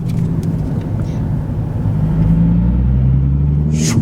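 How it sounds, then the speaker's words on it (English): Cars idle and creep along in a traffic jam, a heavy low engine rumble that swells slightly, heard from inside a vehicle, close and loud, with one brief higher whoosh at the end. "We got a mean traffic jam."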